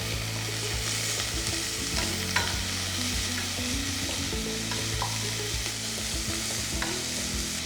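Onions sizzling in a pan with a little salt, cooking for mutton mappas, a steady close frying hiss with occasional stirring scrapes, no talk.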